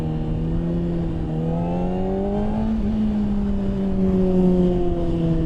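A 2025 Honda CBR600RR inline-four engine drones loud and close while riding in first gear, its steady tone rising and dipping slightly with the throttle.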